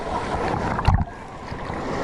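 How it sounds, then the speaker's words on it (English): Ocean waves at high tide off a Grand Cayman shore, a steady close wash of water with wind buffeting the microphone and one short heavy splash midway. "if you see the waves, they're like way up here once they come"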